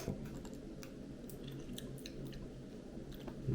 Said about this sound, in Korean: 얼마나 한번 매운지 한번 먹어볼게요